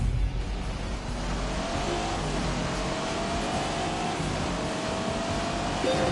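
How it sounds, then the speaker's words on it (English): A race car in The Grand Tour video game drives around Chatsworth House, its engine droning steadily and loud throughout, with shifting revs and a faint tyre squeal. "Richard Hammond driving around in Chatsworth House here"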